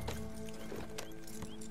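Horse hooves clip-clop in Red Dead Redemption 2 as a horse is ridden: a few soft, irregular hoof knocks, faint and close, over a quiet ambient bed.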